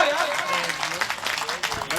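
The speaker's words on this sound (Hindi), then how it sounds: "पूरा सदन जरा जोरदार ताली बजाओ यार।" Loud, steady applause fills a village poetry gathering (kavi sammelan) in Sandalpur, Dewas district, with dense clapping from a large audience and voices mixed in throughout.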